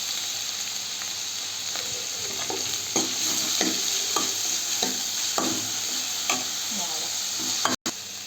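Onions sautéing in a pan with ginger-garlic paste and salt for a raw banana curry, a constant close sizzle punctuated by regular spatula scrapes and taps, with a brief dropout near the end.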